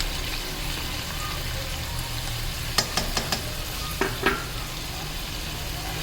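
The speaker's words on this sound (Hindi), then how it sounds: "अब फिर से इसको भून लेंगे।" Aloo chicken curry fries in a pan after a spoonful of yogurt blended with green chilli goes in. A steady, soft sizzle runs throughout, broken by a brief cluster of stirring clicks and scrapes.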